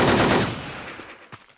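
Rapid automatic gunfire in the online shooter WolfTeam, a loud dense burst of shots that fades quickly with one faint final report.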